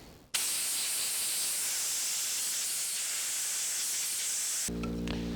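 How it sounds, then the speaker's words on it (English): Compressed air from an airline blasting dust off a turned wood candelabra base, a sudden loud continuous hiss that starts abruptly and holds steady for several seconds before a brief cut at the end. "just to speed it up a bit, I'm going to use the airline"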